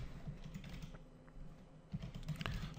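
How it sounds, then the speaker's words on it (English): Computer keyboard typing runs throughout, close and fairly quiet, with a dense patter of keystrokes that thins briefly in the middle and then picks up again in quick bursts. "let me type document"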